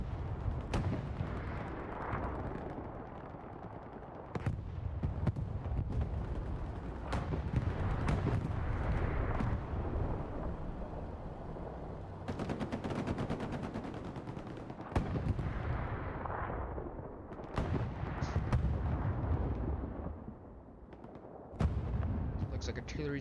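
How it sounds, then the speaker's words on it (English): A bombing run in a multiplayer shooter match on the map Southern Edge brings repeated heavy explosions and gunfire bursts, loud and irregular, mixed with a caster talking throughout. "Bombing run coming in for CTM."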